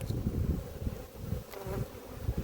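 Honey bees buzzing in a steady low drone at an opened brood box in an apiary, close and continuous, with no talking.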